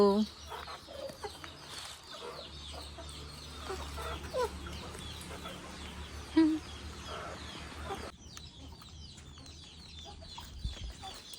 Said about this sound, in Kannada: ಅಲ್ಲಿ ಕೋಳಿ ಇದ್ದಾವೆ ಅವು ಪಾಪ ಕಾಯ್ತಾ ಇದ್ದಾವೆ